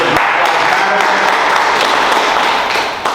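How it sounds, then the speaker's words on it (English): Loud, dense audience applause at a community ceremony in Paterson honoring local helpers during a water crisis, sustained for about three seconds before easing slightly. "Another round of applause for Zellie Thomas."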